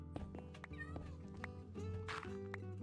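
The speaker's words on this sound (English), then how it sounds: "Look, there's a cute cat." A cat meows in Minecraft, a few short cries heard against layered game music and soft background noise.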